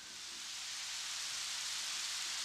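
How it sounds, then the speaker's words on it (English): A Roland FP-30X digital piano plays its rain sound effect, a soft steady wash of hissing rainfall that swells slightly at the start and then holds even, with no talking. "We got rain."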